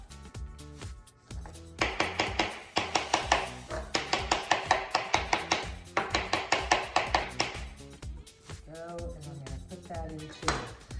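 A knife chopping cilantro on a cutting board for guacamole, quick steady bursts of sharp close taps with brief pauses between runs.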